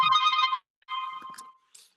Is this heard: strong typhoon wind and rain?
no